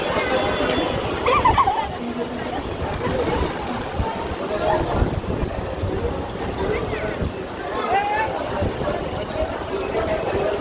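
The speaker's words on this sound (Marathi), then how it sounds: "चांगलाच पाऊस यायला लागलाय" Dense, steady heavy rainfall with gusting wind roars around the microphone at Shegaon, while voices talk faintly in the background.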